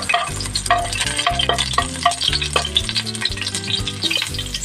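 Garlic frying in hot oil in a pan, a dense crackling sizzle mixed with clattering stirs and scrapes that come in quick, busy bursts, close and fairly loud, with no voices.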